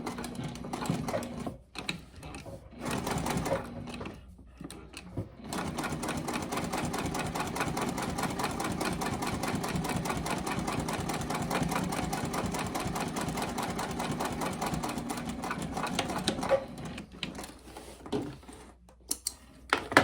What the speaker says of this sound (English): I'm just gonna stitch along this bottom edge here to hold this in place.